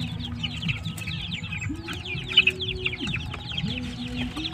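One-month-old chicks and chickens cluck and peep continuously at close range, overlapping calls layered with low murmuring clucks, some birds suffering from coryza.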